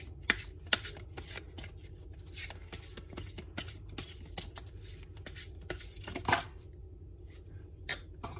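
Tarot cards being shuffled by hand for a Capricorn reading, a rapid run of crisp riffling flicks and taps, close and fairly quiet, with no talking.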